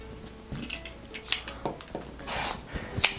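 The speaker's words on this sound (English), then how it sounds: "we're going to take this over to our cutting mat and cut on the right side here" Scissors snip through quilt fabric on a cutting mat, a handful of short, soft crisp cuts with small clicks and rustles, close and quiet, no talking.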